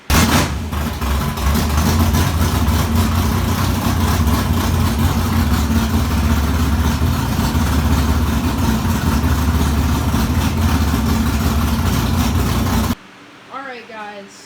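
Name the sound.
car engine started and idling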